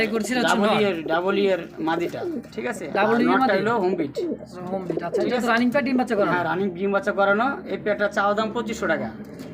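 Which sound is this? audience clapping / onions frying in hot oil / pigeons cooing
pigeons cooing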